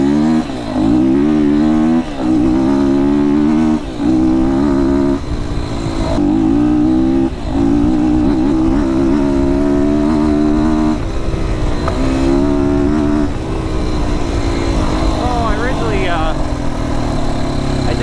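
A motorcycle powered by an FSE300R engine rides on trail near Bald Eagle State Park, Pennsylvania, its engine note loud and close, rising and falling with throttle changes throughout.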